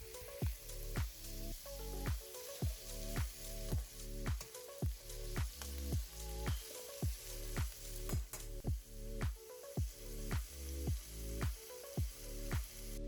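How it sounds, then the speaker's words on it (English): Carrots, onions and garlic sizzle in a hot pan, the frying crackle rising and falling in a steady rhythm of regular pulses, close and fairly loud with no talking. "So while your mixture is sauteing"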